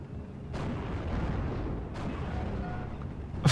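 Two distant booming tank cannon shots from the video game Steel Division: Normandy 44 land about a second and a half apart over a low rumbling background, with a sharper bang right at the end.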